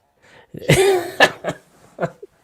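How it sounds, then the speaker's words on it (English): A person coughs close by, one harsh rasping cough followed by a few shorter, weaker coughs and throat sounds. "I'm left with a kind of cough"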